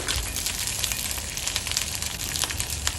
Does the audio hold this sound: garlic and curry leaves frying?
yes